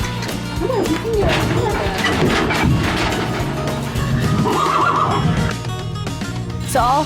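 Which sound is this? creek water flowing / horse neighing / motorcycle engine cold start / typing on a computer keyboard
horse neighing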